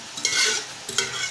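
Pumpkin pieces are stirred and fried in a pan for a curry, with two bursts of scraping and hissing sizzle about a second apart over a steady background frying hiss, close up and with no talk.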